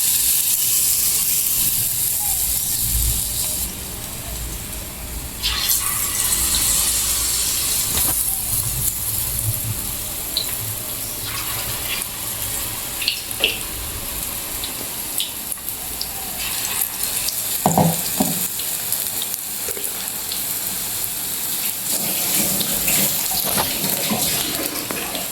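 Green chillies dipped in batter for bajji, frying in hot oil, a loud, dense hiss that continues throughout with occasional louder bursts and light utensil knocks.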